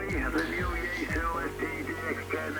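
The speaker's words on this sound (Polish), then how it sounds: "Tak brzmi po prostu modulacja mojego radia bez żadnych filtrów." A voice comes through a ham radio transceiver with no noise filtering, carrying a buzzy, band-limited tone with a steady hiss underneath, unfiltered and fairly loud.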